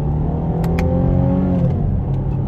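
A Chevrolet Camaro 1LT pulls hard in track mode, its engine droning loud and steady from inside the cabin as the pitch climbs through a gear, with no talk over it.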